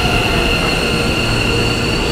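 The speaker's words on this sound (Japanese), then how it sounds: "ちょうど電車来たところかな。" A loud, continuous rumble of a train rolling into Hikifune Station, with high metallic wheel squeal ringing steadily over the roar.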